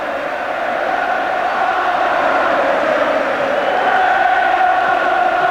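A large football crowd at the 1990 FA Cup Final replay between Manchester United and Crystal Palace, a loud, steady stadium roar of applause and cheering that swells slightly and holds throughout.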